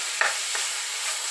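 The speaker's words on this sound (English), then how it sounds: "I'm gonna get that all fried up, and I'm gonna drain this burger because this burger is a little bit greasy." Greasy ground beef burger meat fries in a pan with a constant close sizzle, broken by a couple of soft stirring scrapes, and no voices.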